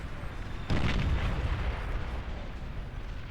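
Explosions destroying a T2 lab in the Beyond All Reason strategy game: a sharp boom followed by a sustained rumbling roar of blasts that slowly fades, fairly loud, with no talking.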